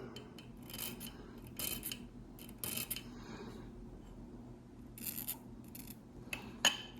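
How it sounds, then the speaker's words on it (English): A jeweler's file lightly rasps across a piston ring from a 1955 Ford Thunderbird engine, giving short scratchy strokes in irregular bursts, close and quiet, with a small metallic tick near the end. "Here's that jeweler's file. And I'm just kissing it here."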